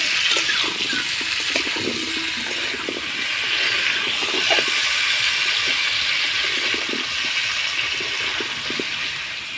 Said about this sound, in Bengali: এবার আমি আমটাকে একটু নাড়াচাড়া করে ভেজে নেব